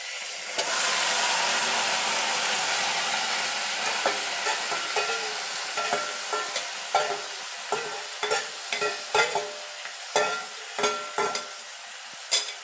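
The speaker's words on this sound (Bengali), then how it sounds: "এবার আমি এটা নাড়াচাড়া করে চাপা দিয়ে রাখবো, গ্যাসটা সিম করে" Meat frying in a pan with garam masala and bay leaves, a steady loud sizzle that fades into repeated scraping stirs of a spoon against the pan, with no voices.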